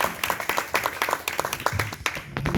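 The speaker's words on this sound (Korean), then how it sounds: "우리 김창환 목사님 우리 박수로 환영하도록 하겠습니다." A congregation at a Korean church revival prayer meeting claps in welcome for a pastor, a dense continuous patter of applause from a crowd, moderately loud and close.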